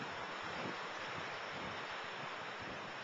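Ocean surf washing onto a beach at Lake Worth, a steady, hissing wash of breaking waves mixed with wind noise, continuous and fairly soft with no talk.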